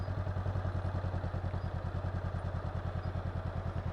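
A motorcycle engine putters at very low speed while the rider slips the clutch, giving a steady, close, rhythmic thumping idle with a regular pulse and no voices.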